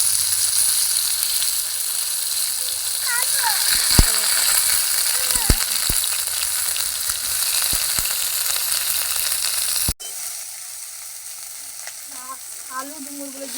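Cumin paste and garlic paste hiss loudly in hot oil for a fig (dumur) curry, a dense continuous sizzle that drops to a softer fry partway through, with faint voice traces in the background.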